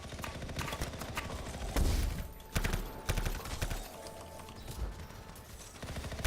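Gunfire in the video game Anthem plays as rapid bursts of shots with a couple of heavier booming impacts over a dense, continuous game soundscape.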